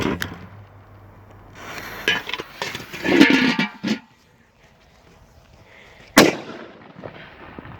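A few sharp pops from small firecrackers exploding on a pot crack out close by, the loudest near the end, between stretches of quiet rustling.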